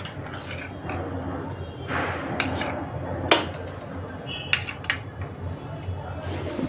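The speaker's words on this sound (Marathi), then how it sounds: "असं परातीत घालून मी खालवर खालवर करून घेते असं टॉस करून घेते परातीत टाकून सगळं" Roasted poha chivda is tossed by hand in a large metal plate (parat) for Diwali, giving a steady rustling scrape with scattered metallic clinks and taps, close and moderately loud.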